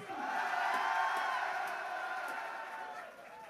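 A large crowd at a Mists of Pandaria game launch event in Paris cheers and claps loudly, the roar building quickly then slowly fading over a few seconds.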